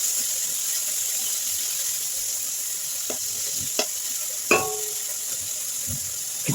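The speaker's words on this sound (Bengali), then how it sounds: "এবার এর মধ্যে ক্যাপসিকাম কুচি, টমেটো কুচি দিয়ে ভালো করে নাড়িয়ে নেব।" Chopped capsicum and tomato stir-frying in a pan for stuffed karela, a steady soft sizzle broken by a few scraping stirs with a utensil, with no one speaking.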